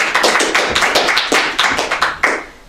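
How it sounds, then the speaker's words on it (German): A small audience at a comedy afternoon event claps in crisp, close hand claps at a brisk, slightly uneven rhythm, loud and clear before tapering off at the end. "Klatschen erstmal"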